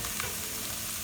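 Brussels sprouts with balsamic vinaigrette cook over high heat in a covered pan, giving a steady, even hiss of sizzling with no voices.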